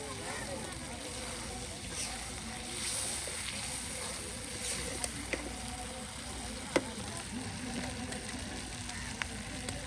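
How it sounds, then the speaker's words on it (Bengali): Beef fried with spices in a pot at an outdoor riverside cooking spot, a steady broad sizzle running the whole time under open-air background noise, with a few sharp clicks and scrapes from stirring. "কষিয়ে নেওয়া হচ্ছে মশলার সাথে"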